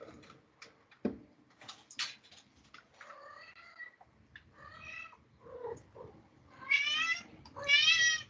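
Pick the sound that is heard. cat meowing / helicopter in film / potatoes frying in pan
cat meowing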